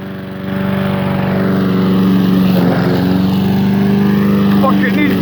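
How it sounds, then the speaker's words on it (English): A self-driving lawn mower's motor drones steadily from half a second on, loud and close, with a voice shouting over it. "The mower!"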